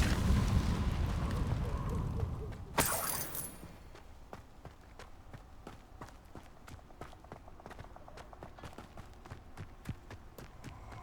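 A burst of flame from the Incendio fire spell in Hogwarts Legacy on PS5, a short loud whoosh rising out of low ambient rumble, then scattered light clicking footsteps continuing afterward.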